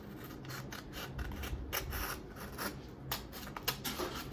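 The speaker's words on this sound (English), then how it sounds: "I'm going to cut off this triangle" Scissors snip through a folded paper triangle in a quick series of close, crisp cuts with faint rubbing in between, and no one speaks.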